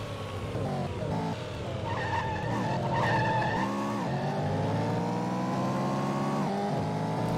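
A race car in the GTR-400 racing video game brakes hard and skids, tires squealing over a revving engine that drops and climbs again in repeated gear shifts, loud and close.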